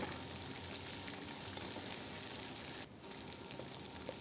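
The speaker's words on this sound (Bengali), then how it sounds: "এর মধ্যে আমি ক্যাপসিক্যাপটাও দিয়ে দিলাম দিয়ে নেড়ে চেড়ে দেব" Capsicum fries for noodles in a steady, faint sizzle that runs through the whole stretch with a brief dip near the end, and no talking.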